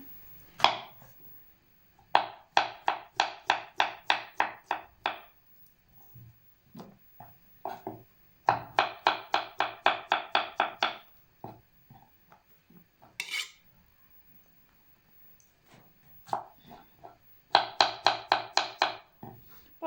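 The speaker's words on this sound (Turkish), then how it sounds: "Şimdi şöyle birazcık mantarım var. Mantar doğrayacağım." Bursts of rapid knife chopping of mushrooms on a cutting board, quick regular strokes in several runs separated by short pauses and small clatters.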